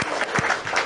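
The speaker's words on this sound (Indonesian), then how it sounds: "Kasih tepuk tangan dulu kawan." Applause from a crowd at a religious talk or lecture gathering, a short burst of dense clapping that stays steady throughout.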